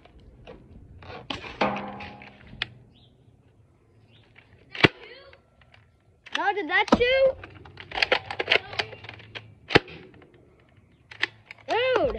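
A toy Nerf gun fires in a Nerf war with several sharp snapping pops spread out over time, close by, while people talk and exclaim between shots.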